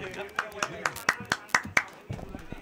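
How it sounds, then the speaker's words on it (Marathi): Spectators clap for batsman Jambo at a 40-plus cricket tournament match in Panchgani, a handful of sharp hand claps in an irregular run under a commentator's talk. "सगळ्यांनी खरोखर टाळ्या वाजून त्यांचं हे करावं"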